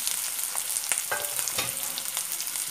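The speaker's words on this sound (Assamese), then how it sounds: "পিঁয়াজটো দি আপোনালোকে ভালদৰে লৰাই দিব" Onions and ginger stirred and fried in a pan, a steady close sizzle with scraping strokes of the spoon running throughout the short stretch.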